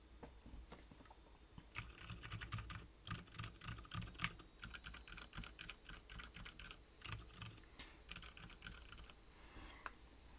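Fingers type on a mechanical keyboard fitted with silent MX Red switches, a quiet, uneven run of soft, muted keystrokes in bursts with brief pauses, recorded close with nothing else heard.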